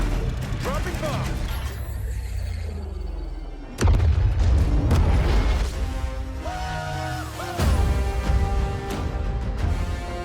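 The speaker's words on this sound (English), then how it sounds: "Dropping bomb." A bomb drop in the shooter game Call of Duty Vanguard bursts into a deep, booming explosion, followed by rumbling debris and a second heavy blast amid continuous battle noise and voices.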